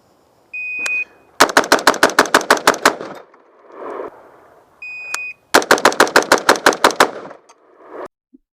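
Two rapid strings of about ten gunshots each, loud and close, fired at 5 yards with an AK rifle, each string preceded by a short electronic shot-timer beep and separated by brief pauses.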